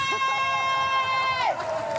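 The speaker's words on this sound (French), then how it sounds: "On applaudit pour les judokas" A crowd at a sports festival cheers for women judokas, one sustained shout ringing out loud and close over a steady background of crowd noise.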